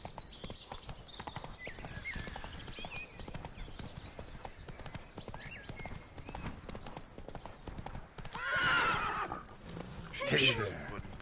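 Roach, Geralt's horse in The Witcher 3, clip-clops along at a steady trot with a loud whinny near the end, while a voice talks over the hoofbeats.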